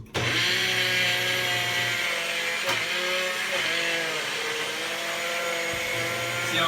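A Vitamix blender whirs loudly and steadily through a kale, spinach and banana shake, its motor pitch shifting slightly as the contents churn, with no talking.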